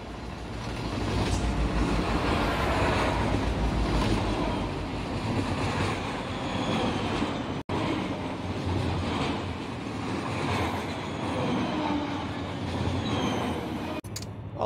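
Freight train hauled by an ES44 and a trailing SD70 locomotive in Run8 Train Simulator, a steady loud rumble of rolling cars and engine drone running continuously throughout.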